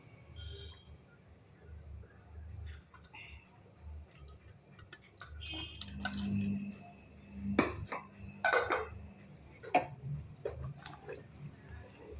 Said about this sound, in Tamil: மிக்சியை கழுவி தண்ணி ஊற்றிடுவோம்